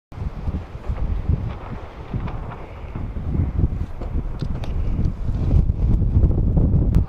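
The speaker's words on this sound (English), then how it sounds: "the wind is actually picking up, so it should be good" Strong wind at a windsurfing spot buffets the microphone, a loud, continuous low rumble with gusting swells and faint rustling flutters of rigging through the whole stretch.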